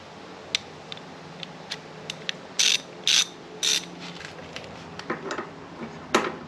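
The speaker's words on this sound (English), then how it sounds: "now we're going to remove both of the caliper mounting bolts. So I'm going to get my 10mm 12 point." A hand ratchet with a 10 mm 12-point socket works on Harley-Davidson touring front brake caliper mounting bolts: scattered sharp clicks, then three louder bursts of rapid ratcheting, followed by more clicks, close and alone.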